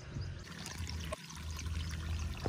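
Water pouring from a borewell outdoors on a cool, breezy day, a steady gushing stream with splashing, fairly loud and close, with wind in the background.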